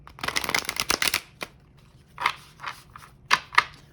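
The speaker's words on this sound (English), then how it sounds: "let's shuffle a little bit" Oracle cards are shuffled in a quick riffling burst, followed by a few scattered softer shuffles and taps, close and fairly quiet.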